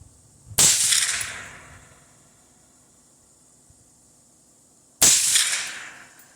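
Two sharp, loud rifle shots from a Bear Creek Arsenal 18-inch .223 Wylde rifle at a range, spaced about four seconds apart, each cracking then trailing off in a long hissing decay with quiet between.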